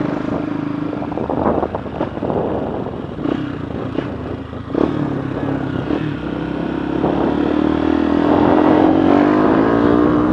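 Motorcycle fitted with an aftermarket exhaust, its engine running loudly and steadily, with several sharp revs and rising throttle blips building toward the end.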